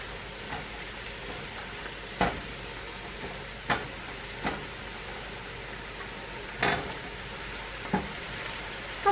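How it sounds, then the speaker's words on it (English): Food fries in a pan with a faint, steady sizzle underneath, broken by a handful of sharp, scattered pops and crackles spaced a second or two apart, with no one speaking. "just fry for a few minutes"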